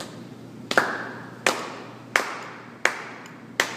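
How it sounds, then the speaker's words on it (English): Five sharp hand claps land at an even, slow adagio pace of about 72 beats per minute, keeping time with a metronome in a quiet room, each clap crisp and close with a short decay. "clap with the metronome"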